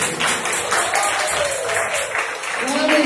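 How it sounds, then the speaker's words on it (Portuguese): Church congregation applauding, a dense, steady wash of clapping throughout with a voice faintly underneath. "Mais palmas para Jesus."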